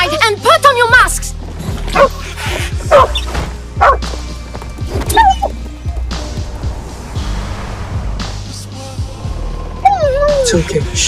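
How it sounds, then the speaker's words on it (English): A small dog named Stubby yips and barks repeatedly in short urgent bursts during a village gas attack, near and loud, with shouting voices and whimpers mixed in. "The dog is trying to warn us!"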